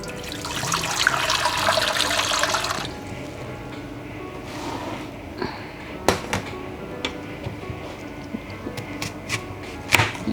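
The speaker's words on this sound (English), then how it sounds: "Use the bowl, put the water in here." Water pours into a bowl in a kitchen while a spicy Thai fruit salad with green and red apple is prepared: a steady, fairly loud rush for about three seconds, then quieter drips, trickles and small clinks.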